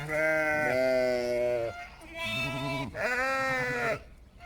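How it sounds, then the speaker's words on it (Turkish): Sheep and lambs bleat loudly and close by in a village, three long wavering calls in a row with brief pauses between them. "Koyun kuzu özleyenlere gelsin."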